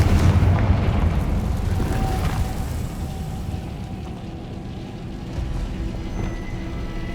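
A Confringo fire spell explosion in the video game Hogwarts Legacy opens with a heavy booming blast, followed by a long rumbling, crackling decay that stays loud and dense for several seconds; no talking.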